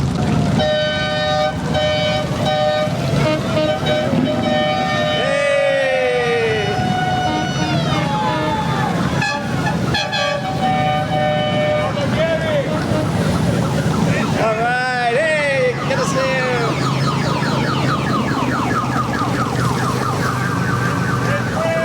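Shriners mini cars drive in the Arcadia Patriotic Festival parade on First Avenue, honking repeated toots and warbling, siren-like horn sweeps over a steady outdoor crowd din.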